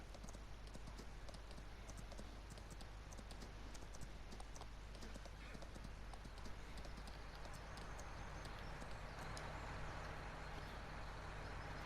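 Horse hooves clip-clop in Farming Simulator 19 on the Italianrice XL map, a quick, steady stream of close, crisp hoof clicks over a low continuous rumble, with no talking.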